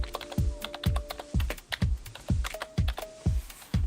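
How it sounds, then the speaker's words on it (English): Keys on a computer keyboard clack in loud, close, irregular strokes, some heavy thumps among quicker taps, with a faint steady tone in the background. "Believe it or not, my typing was worse before."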